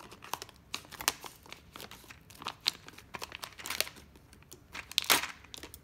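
A plastic bag holding keyboard numpad keys being opened and handled, with irregular crinkling and rustling bursts of varying loudness close to the mic and one sharp tearing crackle near the end.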